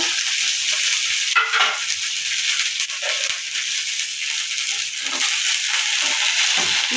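Chopped radish stems, green chillies and curry leaves fry in hot oil in a pan, giving a steady close sizzle with stirring rattles throughout and no voices.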